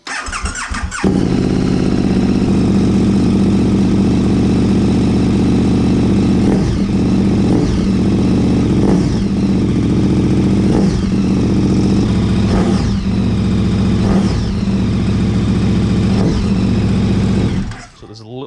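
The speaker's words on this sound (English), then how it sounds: "Bit of a delay when you open up the throttle." A KTM motorcycle engine revs as the throttle opens and closes, loud and close, with repeated rising and falling surges over a steady running drone that cuts off near the end.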